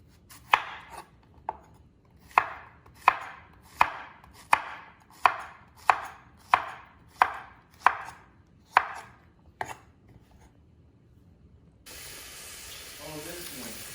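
A knife chops squash into moon-shaped slices on a board for calabacita con queso, about a dozen sharp, evenly spaced close cuts, followed by a brief hiss of steam.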